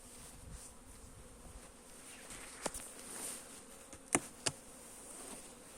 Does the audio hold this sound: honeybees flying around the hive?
yes